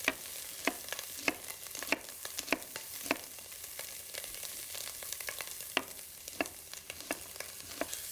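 Diced onion frying with bacon in a hot pan for a prawn, fennel and potato chowder: a soft continuous sizzle broken by sharp intermittent scrapes and taps of stirring, fairly quiet and close.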